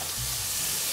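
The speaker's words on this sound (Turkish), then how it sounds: "bunu yanmadan hafif hafif böyle tatlı tatlı pembeleşene kadar pişiriyorum." Close, steady sizzle of garlic frying gently in olive oil, with no voices.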